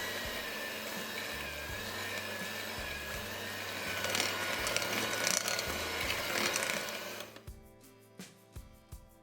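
Electric mixer beating butter and caster sugar on low speed for a chocolate cake batter, a steady whirring drone with shifting pitch that grows louder midway, then stops and gives way to a few quieter clicks and knocks.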